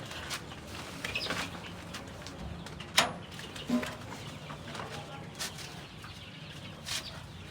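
Chickens cluck and call inside a farm coop in a Tyrolean chicken compartment, scattered faint bird calls over a steady background, with people talking nearby.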